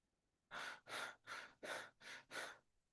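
A person imitates panting with six quick, evenly spaced breathy huffs, close and fairly loud, with short gaps between them.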